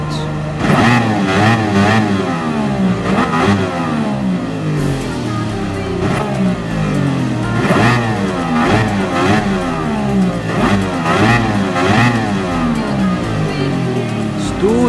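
A race car engine in the GT Sport video game revs hard and continuously at Kyoto Driving Park, loud and close, with repeated rising pitch sweeps as it climbs through the gears and brief dips between shifts.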